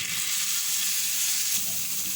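Chopped ginger and garlic frying in a pan for Mexican fried rice, a dense, steady hiss of hot oil that stays close and even throughout, with no talking.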